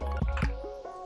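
Water poured into jowar flour dosa batter, a short wet run of drips and soft glugging splashes as the liquid hits the thick batter, close and alone.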